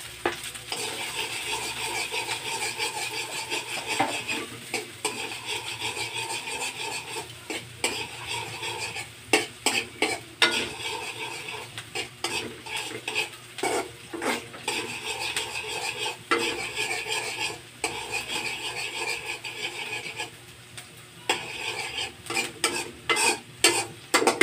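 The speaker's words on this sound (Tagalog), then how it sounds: "Gisa na ng sibuyas." Onions sauté in oil in a pan with a steady loud sizzle, while a utensil stirs and scrapes against the pan with frequent clinks. The cooking is close, with no talking.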